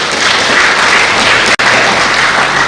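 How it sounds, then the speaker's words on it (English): Loud, dense audience applause for a speaker at a youth public speaking competition in Timor-Leste, continuous clapping with a brief cut partway through. "Please clap for our second."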